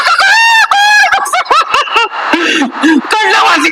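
A comedy performer on stage at a festival in Channapatna imitates a rooster crowing with his voice, making a rapid series of loud, close, rising and falling squawks and honks.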